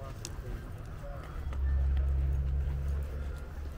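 Horses walk on a western horseback ride, their hooves clip-clopping faintly under a low rumble and steady outdoor background noise, with soft knocks scattered throughout.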